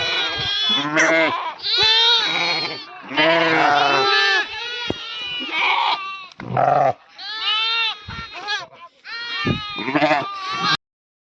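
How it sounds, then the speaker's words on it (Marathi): Sheep bleat again and again at close range in a sheep pen, loud overlapping wavering cries that come one after another in quick succession. "खल्ली मेंढी हिला दोन कोकरे झाले"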